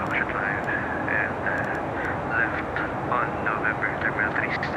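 Boeing 747-8i climbing out of Manila with flaps up in X-Plane 12: a steady, dense engine roar droning throughout, with a faint tonal whine on top.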